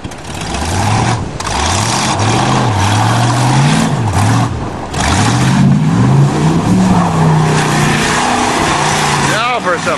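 An old car nicknamed the moldmobile labours up a steep dirt hill on a farm, its engine revving loud and close with rising and falling pitch, wheels spinning, while people talk and shout over it.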